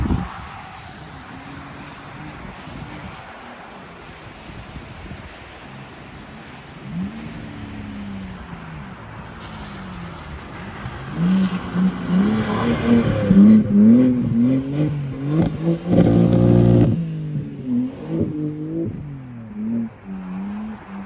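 A rear-wheel-drive BMW G80 M3 on Michelin X-Ice winter tires drives on snow in sub-zero cold, its engine revving and rising as it approaches, loudest at mid-pass, then fading slightly.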